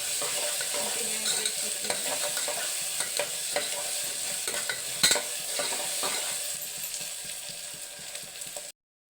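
Steady, dense sizzling as ingredients for chitranna fry in oil until reddish, with occasional stirring scrapes, close and continuous until an abrupt stop.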